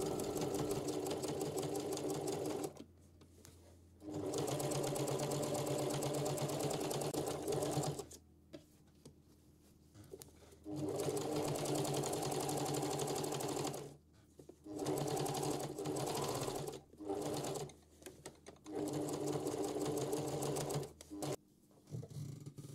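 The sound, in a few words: sewing machine top stitching bag handles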